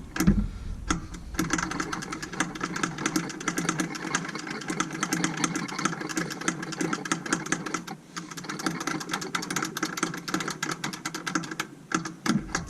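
Rapid mechanical clicking and ticking from hand-pumping the fuel lift pump on a Massey Ferguson 550 tractor during fuel filter work. It runs steadily and close for the whole stretch, with no talk.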